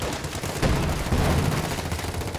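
Dense machine gun and rifle fire from a Company of Heroes 2 battle, American riflemen with LMGs against German paratroopers, rattling in continuous bursts with heavy booming impacts throughout.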